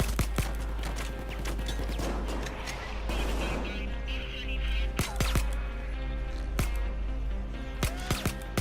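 Scattered gunshots in a video game, several sharp single cracks spaced irregularly, mid-loud over a steady background hum and game ambience.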